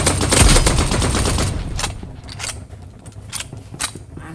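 Gunfire from an AUG assault rifle in a video game: a dense burst of rapid automatic shots up front, then a few sharp, separate clicks and mechanical snaps as the weapon settles, loud and close with no talking.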